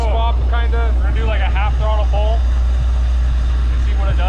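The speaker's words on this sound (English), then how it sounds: "Half throttle pull and see what it does." An LS-swapped jet boat engine runs at half throttle, a loud, steady low rumble heard close up, while someone talks over it for the first couple of seconds.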